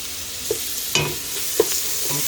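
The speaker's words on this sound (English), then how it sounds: "add the garlic, add the pepper flakes, fry a little bit, then add the onions, stir very well, fry a little bit" Garlic, pepper flakes and onions fry in olive oil with a steady close sizzle, while a utensil scrapes and stirs through the pan in a few distinct strokes.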